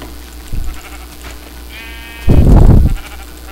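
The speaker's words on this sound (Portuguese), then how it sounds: "Mata a ovelha." Sheep bleating in Minecraft, played on hardcore mode: a brief low bleat, then a louder, longer one a moment later, over faint background game ambience.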